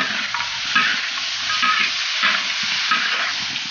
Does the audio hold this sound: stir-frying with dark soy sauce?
yes